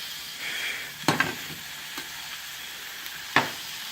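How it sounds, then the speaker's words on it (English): Food sizzling in a hot pan: a steady, soft crackling hiss with a few sharper clatters as it is stirred, close by and fairly quiet, with no talking. "And that sizzling is good. That means that the pan is nice and it's ready"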